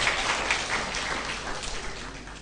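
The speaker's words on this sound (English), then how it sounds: "Please give a round of applause for her." An audience applauds after a discussion-panel contestant is called forward, giving a steady, moderately distant round of clapping that holds throughout with no break.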